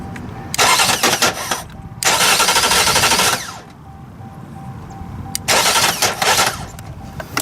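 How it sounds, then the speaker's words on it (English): A lightning-struck 2016 Jeep Latitude engine cranks over in three loud, steady bursts of a couple of seconds each, with quiet pauses between them, and never catches. "I can crank the engine now."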